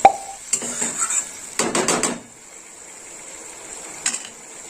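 A utensil clatters and scrapes against a pan while rohu fish curry (mahi kalia) is stirred and sautéed, with a few close bursts of clinking early on, then a quieter steady hiss with one more brief scrape.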